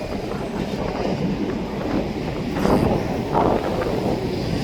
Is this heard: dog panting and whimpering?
no